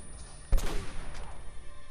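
A single sharp sniper rifle shot cracks in the video game Uncharted: Drake's Fortune, followed by a short rumbling echo that trails off.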